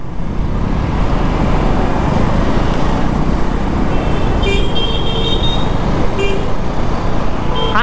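Busy road traffic surges past at a signal, with a loud, constant roar of engines and tyres, several short horn toots in the latter half, and heavy wind buffeting close by.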